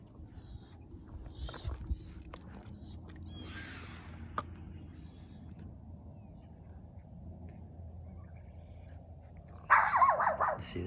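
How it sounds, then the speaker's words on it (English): A dog barks outdoors a few times in the first seconds, somewhat distant and quiet over a low background hum, followed by a burst of louder noise near the end. "People with a dog over there barking."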